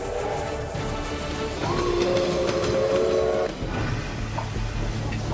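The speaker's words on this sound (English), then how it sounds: "all you can hear is the rumble of the train and the whistle" A steam train rumbles steadily nearby through hills in Australia, with a sustained whistle sounding for a couple of seconds in the middle, then fading back to the rolling rumble.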